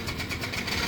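A Yamaha Mio i 125 scooter with a hard-start fault cranks on its starter without catching, a brief, steady whirring churn at moderate level.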